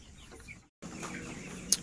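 Broiler chickens aged 23 days cluck softly in a coop, with a short gap of silence and a sharper chirp near the end.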